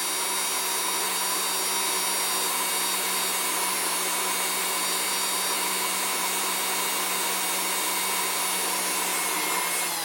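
A drill bit bores into metal on a Pfaff 230 sewing machine, lubricated with oil, giving a continuous high whining grind that holds steady and alone throughout.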